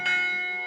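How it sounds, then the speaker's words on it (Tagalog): A single ringing stroke of a church bell in the Iloilo and Capiz region of the Philippines, bright and metallic with a sustained, slowly fading tone. "Sa marami nating mga probinsya, ang mga kampana ng simbahan"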